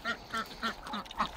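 Ducks being herded into a pen on a homestead give a series of short quacks in quick succession, fairly close and moderately quiet.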